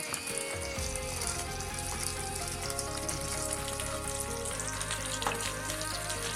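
Whole chicken frying in olive oil, a steady dense sizzle that fills the whole clip at close range, with bubbling crackle throughout and no voices.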